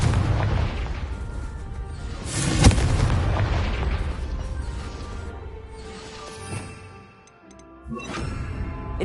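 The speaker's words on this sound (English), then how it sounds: "Confringo." Fire spell explosions in the Hogwarts Legacy video game, a loud booming blast around the midpoint among crackling, rumbling combat noise, followed by smaller bursts and a fading tail.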